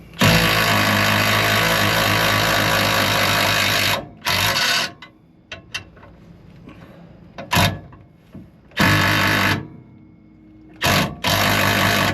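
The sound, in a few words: tool spinning a nut on a 2012 Dodge Ram 3500 drive shaft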